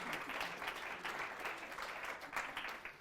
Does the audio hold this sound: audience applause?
yes